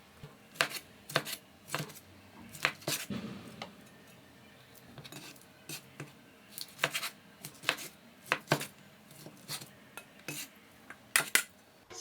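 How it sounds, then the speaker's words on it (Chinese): A kitchen knife chops pork leaf fat on a cutting board in sharp, irregular strokes, clustered hits with brief pauses between, close and clear with no speech. "现在我们给它改刀，然后先漂洗一下。"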